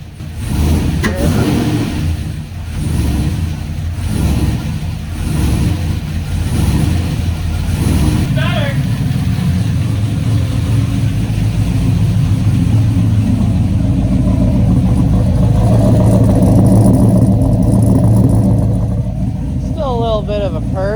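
Chevrolet TrailBlazer SS fitted with PRC cylinder heads and a Texas Speed cam, driving with a loud, rumbling V8 engine note and revving pulses early on, then a steady cruise as people talk inside the cabin.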